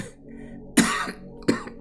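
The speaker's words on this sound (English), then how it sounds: "I'm still kind of coughing up a little bit" Two close, harsh coughs about half a second apart, with no talking.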